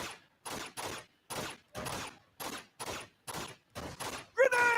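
Gunfire and a grenade blast in Uncharted: Among Thieves come as a string of about ten evenly spaced, loud bursts, each cut off sharply, with a brighter, harsher final burst at the end.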